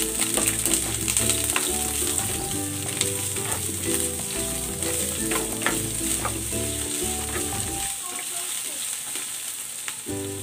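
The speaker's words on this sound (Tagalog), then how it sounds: "Igigisa ko na itong sibuyas." Onions sautéing in hot oil make a bright, continuous sizzle with scattered crackles, heard over background music that drops away near the end and leaves the frying alone.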